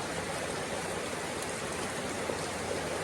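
Heavy rain pours down in a dense, even hiss of broadband noise, steady and unbroken, with no voices.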